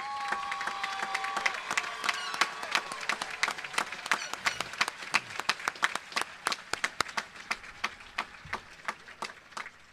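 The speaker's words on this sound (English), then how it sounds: "Please give Calvin and his family a round of applause." Applause at a Sebastian River High School graduation starts as a brisk crowd ovation with some cheering and thins out into scattered individual claps that slow and space apart near the end.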